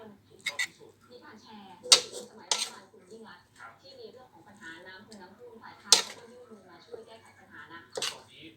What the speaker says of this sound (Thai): เสร็จแล้วเราจะตักใส่จานนะครับ